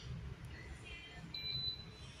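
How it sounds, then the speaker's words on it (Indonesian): A repaired electronic device plugged into 220-volt mains gives a single short, high buzzer beep on powering up, faint and brief beneath a low background rumble. "Hidup, bunyi buzzer beep."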